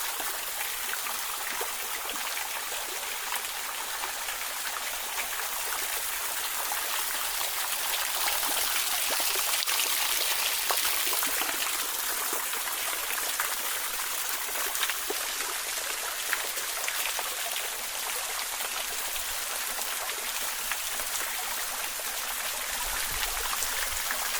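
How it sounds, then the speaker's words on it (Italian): The main waterfall at Parco Aymerich in Laconi rushes continuously, a bright, steady hiss of falling and splashing water heard close and alone. "Ed ecco la cascata maggiore per voi, ce la godiamo tutta con il suo suono."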